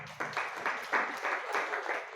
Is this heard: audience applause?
yes